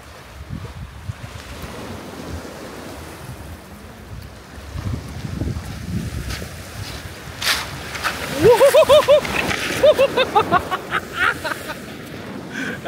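Seawater washes and splashes against the shore beside a World War II bunker on the French coast. Steady wind rumble runs underneath, and a few brief voice-like calls rise near the end.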